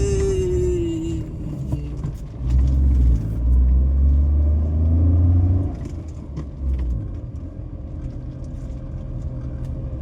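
Vehicle engine labouring up a steep mountain road, a low rumbling drone that swells louder midway and then settles, close and continuous with no talk.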